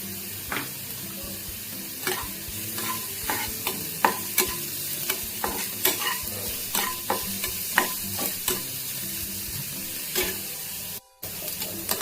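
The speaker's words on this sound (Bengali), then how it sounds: "পেঁয়াজটা দেখো আমার লাল লাল করে ভাজা হয়ে গেছে" Chopped onions fry in a pan while being made into Maggi noodles, a steady sizzle broken by frequent scraping stirs of a spatula, close and fairly loud with a brief cut near the end.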